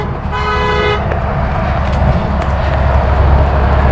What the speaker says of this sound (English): I don't know why they're honking